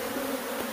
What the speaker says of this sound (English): It's raining killer bees.